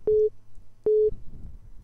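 Telephone busy tone after a held call: two short, identical beeps of a steady pitched tone separated by a pause, clear and alone over a faint background hum.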